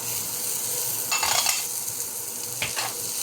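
Onions sautéing in a pan for ginataang puso ng saging, a steady hiss of frying broken by two brief bursts of stirring and scraping, close and fairly loud, with no voices.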